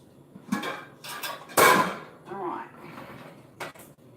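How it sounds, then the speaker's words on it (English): Metal canning lids clatter and clink against each other and a pot of hot water, a few sharp bright knocks with a louder splash-like clatter in the middle. "you get your lids and then you wash them and then throw them into that hot water from your jars"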